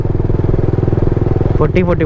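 Motorcycle with GTT technology speeding up on its own in a high gear, giving a steady, loud, throbbing engine drone close by, with a voice talking over the end.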